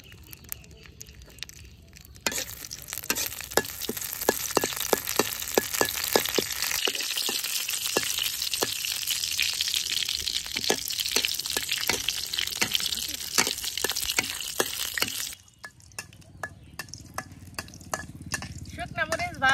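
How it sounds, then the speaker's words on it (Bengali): Dried red chilies frying in mustard oil in a pan, a steady crackling sizzle with frequent sharp pops and stirring scrapes that runs for about thirteen seconds, then drops to a quieter hiss with more scattered crackles. "শুকনা মরিচটা সুন্দর করে ভেজে নিয়েছি"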